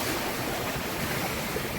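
Steady, broad rushing wash of Pacific Ocean waves around a sailing boat at sea, constant and enveloping with no distinct breaks and no voices.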